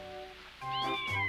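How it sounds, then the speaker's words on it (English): A kitten gives one clear, fairly close meow that rises and then falls, with a second short cry near the end of it. It stands alone, with no talking. "She's Beth's kitten, Amy."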